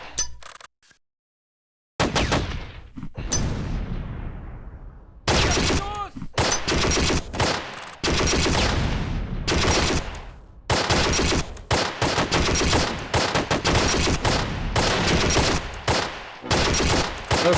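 Gunfire from troops in the war game Close Combat: Wacht am Rhein, with loud overlapping machine-gun bursts and rifle shots in repeated volleys, a short silence near the start, and some ringing decay between salvos.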